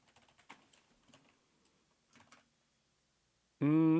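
Keys tapping on a computer keyboard as commands are entered, short quiet bursts of keystrokes close by, then the sound cuts off into a sudden loud tonal burst at the end.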